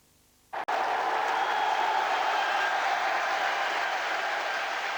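A 20,000 sellout football crowd at Swindon Town's Second Division playoff against Crystal Palace roars as the team comes out. After a brief quiet start the noise bursts in suddenly, then holds as a loud, sustained wash of cheering and applause.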